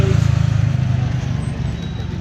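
Road traffic at night, with cars and larger vehicles rumbling steadily and close by in a low, continuous drone, no voices heard.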